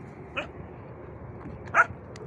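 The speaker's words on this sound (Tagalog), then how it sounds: "Ito maraming aso." Two faint, short dog barks sound at a distance, spaced apart, over a low steady background hum, from stray dogs in a desert area.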